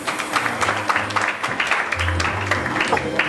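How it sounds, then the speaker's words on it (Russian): A live audience claps at the Krasa Tyumeni 2016 beauty pageant stage show as a contestant finishes her presentation: a dense patter of hands that runs steadily under low sustained musical tones. "Встречаем аплодисментами."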